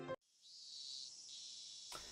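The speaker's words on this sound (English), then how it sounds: "The great chorus of cicadas was strongly underlining how nothing was different today than yesterday." Cicadas in the game Higurashi drone in a steady, high, shrill chorus that holds for about two seconds, fairly quiet and with no voices over it.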